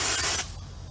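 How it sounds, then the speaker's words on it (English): A canister of bear spray releases a short pressurized burst aimed low, a loud hissing blast for under half a second that drops abruptly to a fainter lingering hiss outdoors. "if I don't feel like it was comfortable, I want to spray again, go ahead and spray low"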